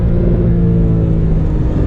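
A Porsche 911 (991.2) with a turbocharged flat-six engine drones steadily from inside the cabin, a low continuous rumble held in gear with no talk.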